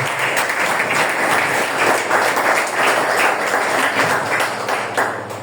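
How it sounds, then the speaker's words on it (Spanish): A church congregation applauds loudly and continuously, a thick sustained round of clapping filling the room for several seconds before easing slightly at the end. "Dale palmas a Dios."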